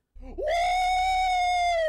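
A Skibidi Toilet YouTuber character lets out a horrible scream, a loud, sustained, piercing shriek that starts after a brief stuttering onset and holds steady to the end, alone and close.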